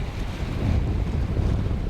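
Steady wind roars continuously at sea aboard the small sailboat Mingming II, a broad low rushing noise with wind buffeting the microphone and water washing past the hull, loud and unbroken throughout.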